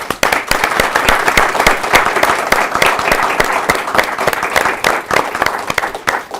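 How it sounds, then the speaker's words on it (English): A meeting audience at a town select board session breaks into dense, steady applause, many hands clapping together at close range with sharp individual claps poking through, sustained evenly for several seconds. "And so we want to applaud you."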